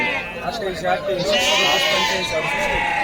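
At a sheep market in Kashti, sheep and lambs bleat repeatedly and close by, long quavering calls overlapping with speech and crowd chatter.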